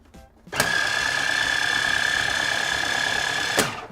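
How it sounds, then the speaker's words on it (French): A Simeo FF140 granita machine starts up and runs with a steady, loud mechanical whir and a constant high whine for about three seconds, beginning and ending with distinct clicks of the lid locking and unlocking, no voices. "Dès que vous verrouillez le couvercle, la machine fonctionne."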